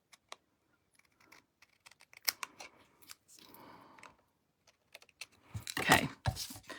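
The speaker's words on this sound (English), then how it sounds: "If it doesn't, just trim a little bit more." Scissors trim paper for a butterfly card in a series of small close snips and rustles, sparse at first, then a louder cluster of crisp cuts toward the end, with no talking.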